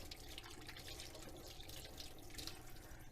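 Warm water runs from a lever kitchen tap in the food service area of a bed and breakfast, a quiet, steady splashing stream into the sink with no talk.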